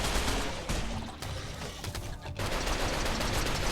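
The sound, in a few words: gunfire from the video game Rimworld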